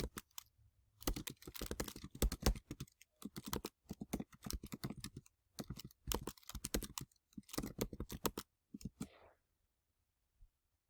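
A computer keyboard clatters under fast typing in irregular bursts of keystrokes with short pauses, close and fairly quiet, then falls silent apart from one last click.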